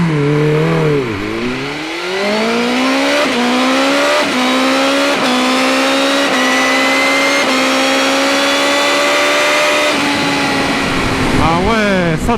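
BMW M 1000 R motorcycle accelerates hard from a standstill with traction control off, loud engine note rising through several quick upshifts before easing off, with a rider's voice audible over it.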